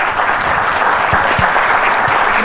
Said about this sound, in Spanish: Que se pongan de pie y los vamos a aplaudir.